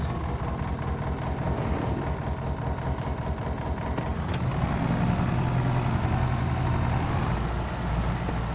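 A farm tractor's engine runs steadily at close range, a low, continuous rumbling drone with no talk over it.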